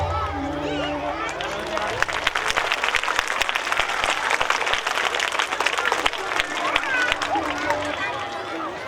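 Students at a school function in Ghansoli, Navi Mumbai clap together in a sustained, busy burst, the sharp claps stacking up under a low murmur of voices.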